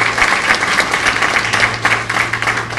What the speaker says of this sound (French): Je vous demande d'applaudir vos professeurs et vos responsables.